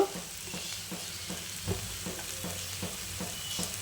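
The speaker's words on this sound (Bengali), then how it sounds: "একটু ঘি দিয়ে দিলাম মূলোর ঘন্টতে।" Radish ghonto cooking in a pan with ghee, a steady sizzle and hiss with soft rhythmic stirring scrapes, close and moderate, no talk.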